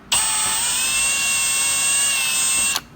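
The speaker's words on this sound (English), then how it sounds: "I'm going to drill a 3/16 inch hole here" A drill bores a 3/16 inch hole through plastic at an emblem indentation, a steady high-pitched whine that starts abruptly, holds evenly for nearly three seconds close to the microphone, then cuts off.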